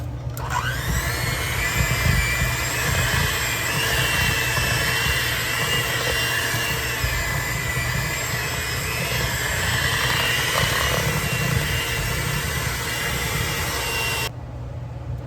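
An electric mixer whips a dessert mixture in a home kitchen, giving a loud, steady motor whine that runs unbroken for about fourteen seconds and then cuts off abruptly.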